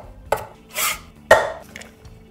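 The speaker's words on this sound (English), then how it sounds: "Chop it up." A knife chopping fresh basil on a cutting board for salsa verde: two sharp, close knocks of the blade with a brief scraping swish between them, with no talk.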